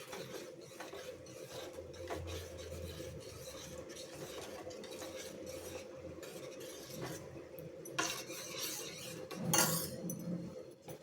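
A spoon stirs milk into health-mix porridge in a cooking pot, making soft repeated scraping and clinking against the metal, close but fairly quiet, with a louder clatter near the end.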